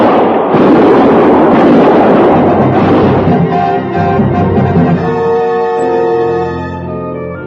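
Gunfire in a frontier-era radio drama, a dense burst of loud shots and blasts in the first few seconds, then a fading rumble that gives way to sustained music.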